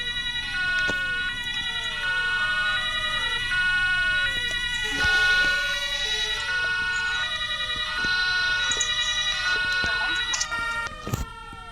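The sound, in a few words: emergency vehicle siren in a video game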